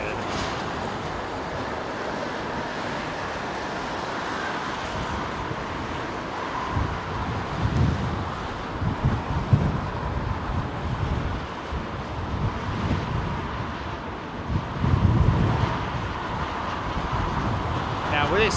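Gusty south-southwesterly wind at London Heathrow Airport buffets the microphone in rumbling surges over a constant broadband rush, with occasional voices faintly underneath.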